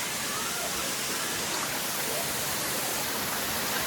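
Nhavankond waterfall pours in a steady, dense, close roar of falling water, unbroken and uniform in loudness throughout.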